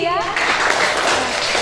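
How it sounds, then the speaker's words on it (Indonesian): Classroom applause for a student, a brief burst of clapping from a class that rises right after a teacher speaks and holds steady, close and moderately loud. "kita beri tepuk tangan dulu buat Kimberly ya"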